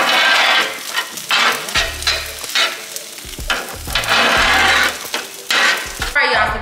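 Egg frying on a hibachi griddle, a steady broadband sizzle with scraping and stirring strokes of a spatula, close and fairly loud, with no voices.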